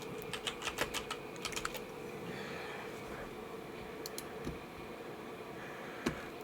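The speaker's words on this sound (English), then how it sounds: "I'm just going to type it in then." Rapid keyboard typing as a Huawei Mate X5 search is entered, clustered keystrokes in two bursts with a pause between, close and fairly quiet, with no talk.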